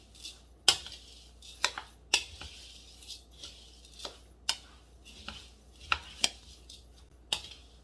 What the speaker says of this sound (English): So we're just going to mix this around with my spoon.